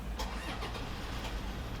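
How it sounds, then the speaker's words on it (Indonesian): A Toyota Granace diesel van engine cranks and fires up, a few quick starter bursts in the first second settling into a low, even idle rumble heard from inside the cabin, with no talking. "Nah, mesin dieselnya udah menyala dan halus sekali."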